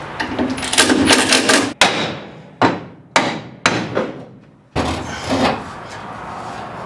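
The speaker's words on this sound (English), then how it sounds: "then you take a hammer and you beat on it, and it slides it right out" Several loud metallic hammer blows in a row, sharp strikes separated by brief pauses, close by, ringing against metal as a bolt is driven out of a 1968 Plymouth Barracuda's lower suspension.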